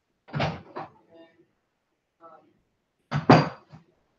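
A door is shut indoors with a close, loud thunk and rattle, then a faint click, and after a pause a second sharp slam with a brief knock, heard alone without talk.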